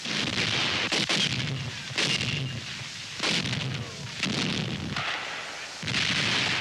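Heavy artillery fire in wartime newsreel battle footage, a rapid sequence of loud booming blasts and rumbling detonations that follow one another with barely a pause, dense and distant-sounding, with no voices.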